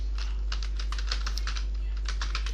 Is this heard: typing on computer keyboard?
yes